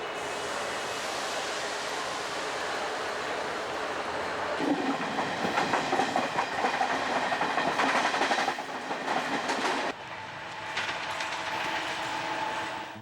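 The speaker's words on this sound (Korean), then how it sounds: "특급 산업 기차인 데칸 익스프레스가 출발합니다." Deccan Express train pulling out of Mumbai's Chhatrapati Shivaji station, a steady rumble of rolling rail cars with rising clatter and rhythmic clickety-clack mid-passage, continuous and fairly close with no talk.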